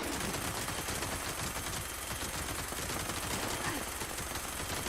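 Heavy guns firing in a video game, a dense, continuous roar of shots layered into a steady, loud wash of noise across the whole stretch.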